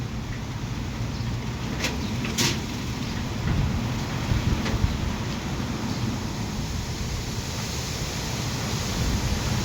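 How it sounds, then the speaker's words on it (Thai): Steady wind rushes past the microphone on a cold morning outdoors, a continuous broadband roar at moderate level with a few faint clicks. "โอ้ยเสียงลมอีก"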